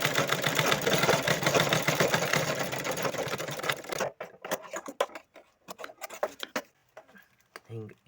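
A sewing machine stitching fabric, a fast, steady mechanical whir for about four seconds, then stopping, followed by quieter handling clicks and rustles of cloth.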